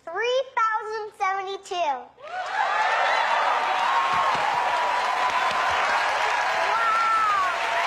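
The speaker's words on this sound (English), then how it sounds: "Wow, that's clapping a lot." A studio audience breaks into loud, sustained applause for a five-year-old maths prodigy, a dense continuous wash of clapping close up that follows a few moments of speech and carries on strongly to the end.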